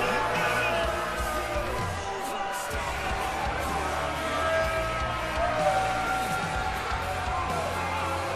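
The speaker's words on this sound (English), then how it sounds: "This crowd is not too happy to see Buddy Murphy." A WWE 2K wrestling arena crowd keeps up a steady, dense roar of disapproval as Buddy Murphy appears at an NXT event, a continuous wash of voices with scattered whoops.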